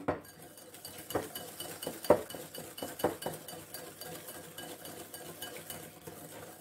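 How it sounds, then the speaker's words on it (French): A hand whisk beats egg yolks and sugar in a bowl for lemon cream verrines, giving a rhythmic run of metallic clinks and scrapes against the bowl, close and fairly quiet, with no talking. "je vais d'abord ramener fouet pour d'abord blanchir les jaunes d'œufs et le sucre"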